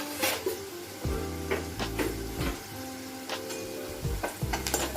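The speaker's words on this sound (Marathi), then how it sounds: "कांदा आपला व्यवस्थित तेलामध्ये फ्राय झालेला आहे" Onion fries in oil with asafoetida and turmeric for misal, keeping up a continuous close sizzle. Intermittent stirring scrapes and a low droning hum sit underneath.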